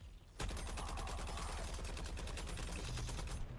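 A LexCorp gun in the Suicide Squad video game fires in a rapid, steady automatic burst, loud, sharp, evenly spaced shots for about three seconds after a short quiet start.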